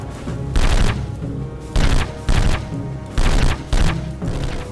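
Gunfire in Conflict: Desert Storm, a war video game, comes as five loud bursts of rapid shots spaced about half a second to a second apart, with a steady rumbling background between them.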